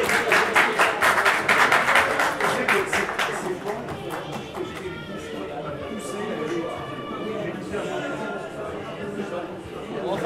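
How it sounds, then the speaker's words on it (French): A gathering at a semikha ceremony applauds loudly and rhythmically at first, and the clapping then fades beneath crowd chatter and overlapping talk. "on applaudit bien fort"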